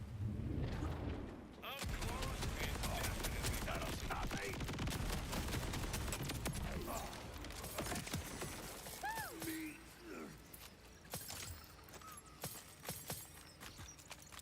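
SMG gunfire in Borderlands 4, a dense, sustained stream of rapid shots with scattered sharp impacts and some higher game effects as it trails off, under a voice speaking.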